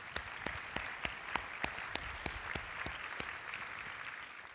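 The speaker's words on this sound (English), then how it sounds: "Would you please give yourselves a big round of applause?" Audience applause at a charity luncheon for Council for Life: scattered, fairly faint clapping with a few sharper individual claps standing out, steady for several seconds without talk.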